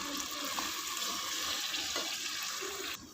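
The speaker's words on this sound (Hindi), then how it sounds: "अब थोड़ा सा इसमें मैं पानी शामिल करूँगी।" Steady rushing water pours into a cooking pot of chicken curry for a few seconds, fairly close, with a faint clink or two, then cuts off near the end.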